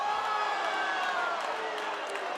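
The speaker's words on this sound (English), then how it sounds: "The crowd's not too happy" A fight crowd at a mixed martial arts event reacts unhappily to a draw decision, a loud sustained roar of voices and scattered shouts filling the arena without pause.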